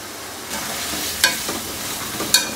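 Chicken fries in a pan until it changes colour, making a soft continuous sizzle with a couple of sharp utensil clicks against the pan.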